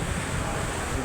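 Wind roars steadily during a rainstorm with flooding, a dense, unbroken rush that stays loud and close throughout the short stretch.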